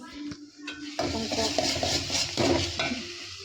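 Roasted eggplant mash (oro), freshly tempered, sizzles in a pan while a spoon stirs and scrapes against the metal in repeated strokes, close and fairly loud, with no talk.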